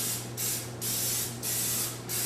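Cooking spray hissing from an aerosol can into a Teflon non-stick muffin pan, three loud close bursts separated by brief pauses, with no talking.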